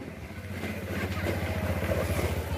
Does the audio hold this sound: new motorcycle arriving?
yes